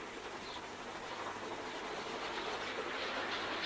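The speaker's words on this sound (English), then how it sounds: "7820 Dinmore Manor of Oxley Wolverhampton Shed is working hard as she comes up and across Swan Lane level crossing heading for Birmingham" Manor Class steam locomotive 7820 Dinmore Manor working hard up a grade across a level crossing, a faint, distant, continuous rumble and rush of the train passing, with no voices.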